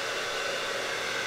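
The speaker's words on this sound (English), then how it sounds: "Now let's go on to the high. We have the hair dryer" A hair dryer drawing about 800 watts from a Bluetti EB150 battery power station blows at full power, a steady loud rushing hiss with no pauses.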